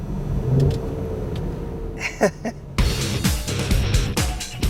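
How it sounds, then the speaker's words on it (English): Mercedes-Benz GL 63 AMG engine rumbles under way, with short throttle blips on downshifts cutting through the low drone as a few sharp bursts, heard from inside the cabin. "I love the way it blips the throttle on downshifts"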